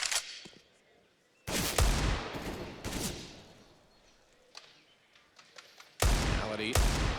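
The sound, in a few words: gunfire in Counter-Strike: GO video game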